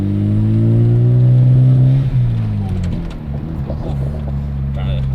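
A Mazda RX-7 rotary engine revs up from inside the car, a loud smooth rising drone that swells for two seconds then eases off into a lower hum, with people talking over it.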